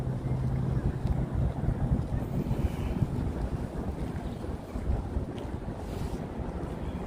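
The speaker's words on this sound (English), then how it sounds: "Oh, it's windy around here" Wind gusting steadily at Brooklyn Bridge Park, a broad rumbling roar of buffeting air on the microphone throughout, cold blustery outdoor setting with faint distant city ambience.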